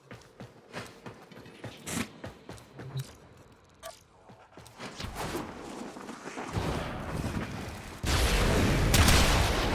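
Shotgun blasts in the Warframe video game, a status-focused build, firing in quick irregular bursts with mechanical clicks and reload sounds between shots, growing denser and louder toward the end.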